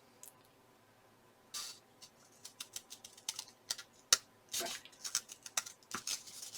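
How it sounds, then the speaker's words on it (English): Scissors snip through origami paper in a string of short, crisp cuts and rustles, close and quiet, irregularly spaced with brief pauses between clusters. "this is where you're going to take your scissors, and where this flap goes on a diagonal, we're going to make our cut"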